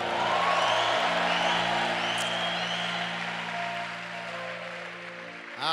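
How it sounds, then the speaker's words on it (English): A church congregation claps and shouts together in a dense, sustained wash of applause and cheering, with steady low held tones underneath, gradually easing slightly toward the end. "give the Lord a shout and a clap offering"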